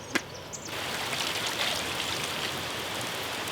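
Steady rain falls on an outdoor campsite during motorcycle trip prep, a dense continuous hiss with a faint tap at the start, close and even throughout with no talking.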